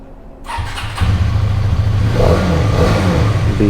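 A yellow Hero Karizma XMR 210 motorcycle at a showroom fires up and revs, loud and close, settling into a steady, throaty engine drone.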